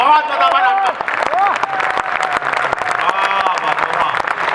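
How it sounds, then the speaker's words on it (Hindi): An audience at a Hindi poetry recital breaks into a burst of clapping, dense applause with a voice speaking over the start and crowd murmur as it continues. "आपने तो कविता की पंक्ति पे ताली बजा दी"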